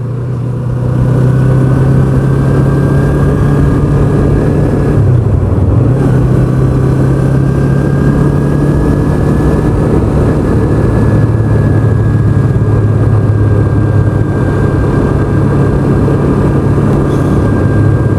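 A motorcycle descending a hill in gear, engine braking with a steady low droning hum and a brief dip in pitch partway through, loud, close and continuous throughout.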